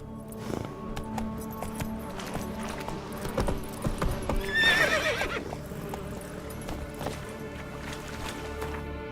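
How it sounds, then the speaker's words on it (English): Horse hooves clip-clop at a gallop in The Witcher 3, with a loud whinny midway, set against game music and ambience. "Run, Roach"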